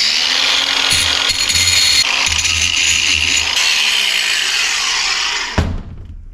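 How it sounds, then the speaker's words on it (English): A power tool grinds down sharp corners on a workhorse master cylinder fitted with a new hydroboost, a steady close whine with pitch shifts and brief catches, then abruptly cut off near the end. "I'm just rounding off these corners"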